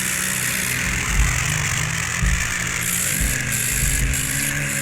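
A modified tractor engine runs steadily, a loud, constant low rumble with faint periodic thumps and a broad high hiss, alone without voices.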